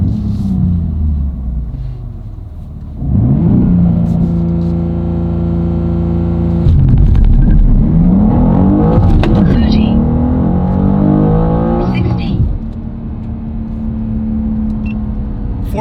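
A BMW M2 G87 does a manual-launch-control 0-60 mph run, engine rumbling at idle before loud acceleration through rising revs and gear changes, then settling; people talk over it.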